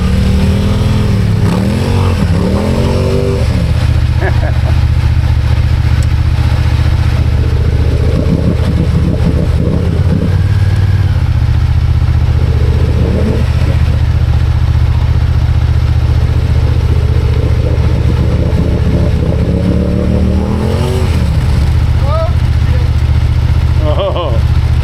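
A Yamaha RMAX UTV on 35-inch BKT tires with 4-inch portals churns through a clay mud hole, its engine droning loud and close with repeated revs and surges, while voices are faintly heard underneath.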